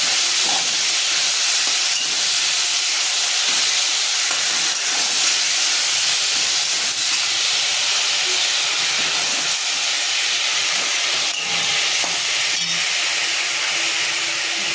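Taro greens tossed into a hot pan with prawns give off a steady, close hiss of sizzling and steam that runs throughout, broken by a few faint clinks and stirring knocks.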